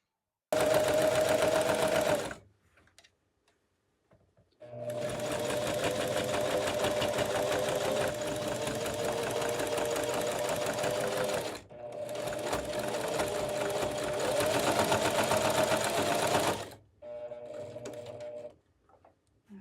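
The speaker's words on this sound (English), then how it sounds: "I'm gonna start at the ends and stitch both ends on, and then stitch in between here and then just along the bottom" Sewing machine stitching fabric for a toy storage piece, running in three long steady mechanical whirring stretches broken by short pauses, close and fairly loud with no talk.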